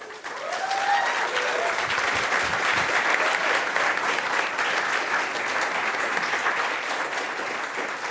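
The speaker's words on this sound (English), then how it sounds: "give a big round of applause to our panelists" A studio audience gives a big, steady round of applause for the panelists at a livestreamed product launch, many hands clapping loudly throughout, swelling early and tapering slightly toward the end.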